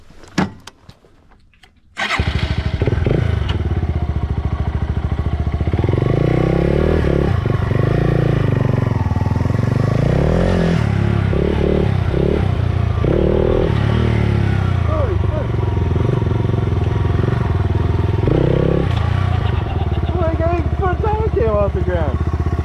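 A Yamaha TW200 motorcycle ridden off-road through muddy ground, its engine droning loud and steady after a short quiet start, with wind buffeting and riders talking over it.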